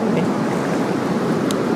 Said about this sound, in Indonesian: Kita tinggal menunggu pergerakan airnya.